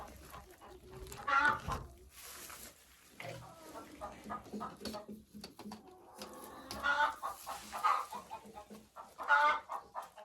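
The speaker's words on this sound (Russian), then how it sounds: "Петушок помесный с моей чубатой курочкой и петухом Мараном." Backyard Araucana chickens, including a mixed-breed young rooster, cluck and squawk close by in a coop, with irregular sharp calls and murmuring over soft rustling and handling noise.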